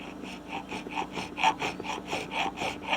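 A file stroking across guitar fret ends along the fingerboard, a soft rhythmic rasping repeated about ten times in steady back-and-forth strokes, close and quiet.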